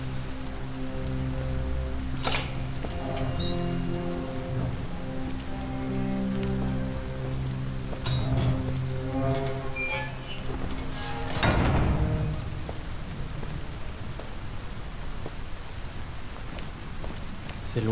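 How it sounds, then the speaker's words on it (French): Steady, heavy rain falls in the video game Detroit: Become Human, a dense continuous patter with a few sharper splashes and low tonal background sounds. "la pluie, là, elle dure depuis plusieurs jours et ça n'aide pas"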